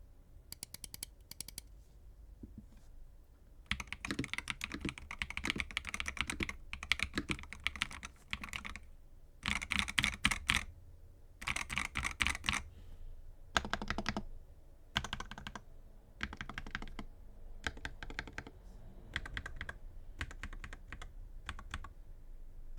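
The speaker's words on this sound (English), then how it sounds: "Now let's get into the sound test." Rapid clicky typing on a MadLions Mad60/68 HE gaming keyboard in bursts with short pauses, close up and crisp, no voices.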